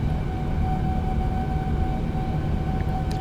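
Boeing 787 engines spool up to takeoff thrust in Microsoft Flight Simulator: a steady, loud, broadband roar with a sustained whine running throughout, no voices.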